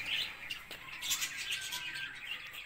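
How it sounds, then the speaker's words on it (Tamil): Lovebirds at a zoo chirp in quick, high-pitched bursts and squawks, several calls overlapping at moderate volume with no talking. "எப்படி கத்துது போறா பார்த்தீங்கன்னா லவ் பேர்ட்ஸ்"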